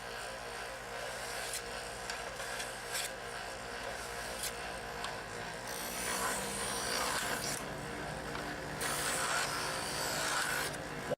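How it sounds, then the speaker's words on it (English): A Chef's Choice electric knife sharpener grinds a knife blade with a steady motorized whir and gritty rasping that swells as the blade is drawn through the slots, close and fairly loud. "One thing about this sharpener is you don't want to push very hard."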